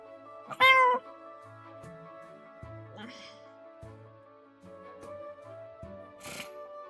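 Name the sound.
black cat meowing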